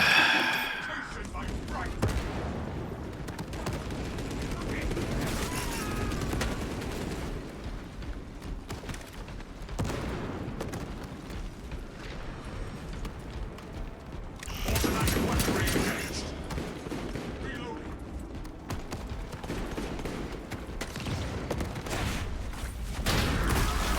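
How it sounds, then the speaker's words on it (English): Tarantula sentry gun in Space Marine 2 firing sustained bursts amid booming battle noise, with someone talking over the gunfire. "Activating tarantula sentry gun."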